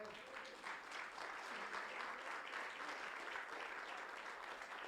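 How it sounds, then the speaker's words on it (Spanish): Congregation applauding during a Spanish-language church service, a steady faint wash of clapping held throughout with no speech over it. "Denle un aplauso al Señor."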